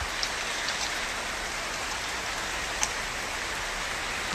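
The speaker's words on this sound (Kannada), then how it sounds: "ಮಳೆ ಸ್ಟಾರ್ಟ್ ಆಗಿದೆ." Rain falls outdoors in a steady, dense patter with a constant even hiss and no pauses, broken only by a few faint drips.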